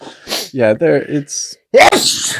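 A single sharp sneeze bursts out between brief snippets of conversation, loud and close.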